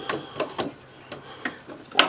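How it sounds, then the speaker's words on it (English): A crescent wrench clicks and scrapes on a strut bar bolt on a Stratus, giving about half a dozen short, faint metallic ticks at uneven intervals in a quiet space. "Actually, I'm going to use a crescent wrench"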